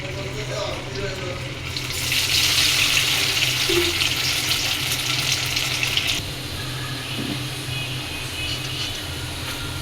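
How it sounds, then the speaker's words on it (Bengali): Potato pieces frying in hot oil, a continuous close sizzle that swells louder for a few seconds before easing back to a steady crackle. "এবার ওভাবেই ওই তেলে আলুগুলা ভেজে নেব"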